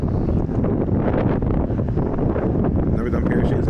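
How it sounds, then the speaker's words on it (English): Strong wind buffets a microphone outdoors on a hill, a steady loud roar of rumbling gusts that persists without break, no voices audible. "I know it's windy out here, that's for sure."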